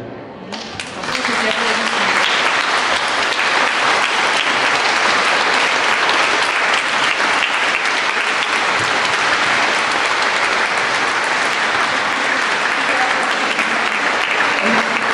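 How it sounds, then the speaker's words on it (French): Sustained, loud audience applause at a public conversation event with author Ludmila Ulitskaya, beginning after a brief moment and continuing as an even, dense wash of clapping to the end. "écoutiez les applaudissements de votre public"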